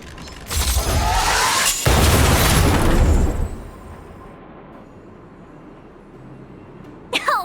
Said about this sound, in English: We wiped them all out in a single explosion!